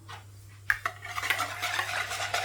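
Close whisking of börek batter ingredients, including baking powder and apple cider vinegar, in a bowl: a couple of sharp taps against the rim, then quick continuous scraping strokes at moderate volume over a low background hum.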